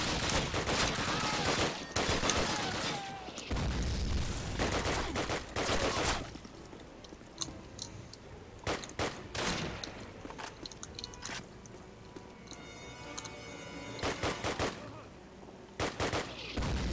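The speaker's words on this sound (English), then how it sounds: "I'm gonna switch to my submachine gun" Bursts of rapid submachine gun fire in the World War II shooter Call of Duty, on a Soviet mission: dense, loud automatic volleys in the first six seconds, then sparser short bursts and single shots amid quieter battlefield ambience.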